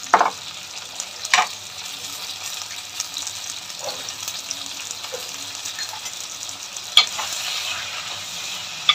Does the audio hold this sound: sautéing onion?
yes